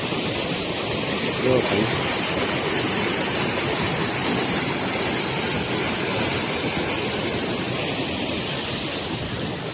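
The mini Jamjir waterfall at Haramadiya village, set in forest, roars as a steady, loud wash of falling water, with a brief voice speaking over it.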